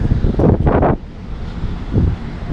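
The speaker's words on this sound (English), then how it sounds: "the audio is probably not very good just because there's wind and a major road right here" Wind buffeting a microphone outdoors beside a major highway, Highway 17, with loud low rumbling gusts in two bursts that ease off between them, and traffic noise underneath.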